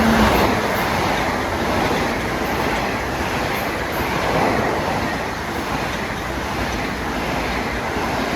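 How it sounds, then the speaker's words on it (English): A Long Island Rail Road train, number 2072 running New York to Ronkonkoma, passes on track 1 of the triple track near Carle Place and Mineola on a damp day, a loud sustained rumble and roar with faint clickety-clack of wheels. "Here comes 2072 New York Ronkonkoma on 1"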